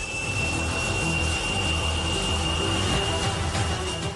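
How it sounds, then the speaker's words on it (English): The American F404 engine of a fighter jet runs after power-on as the aircraft prepares to taxi. Its loud, steady roar carries a sharp high whine and a rumbling low end that continue unbroken throughout. "the canopy is lowered and the jet's American F404 engine is powered on"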